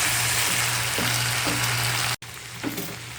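Seafood curry with squid and okra is stirred in a hot pan, giving a steady, loud frying sizzle with soft scraping strokes and one brief break.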